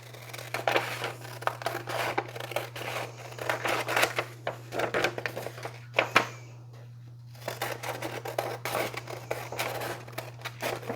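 Scissors snip through decoupage paper, cutting it to size in a quick series of close, crisp cuts with a short pause in the middle.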